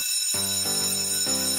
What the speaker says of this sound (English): Was that the bell?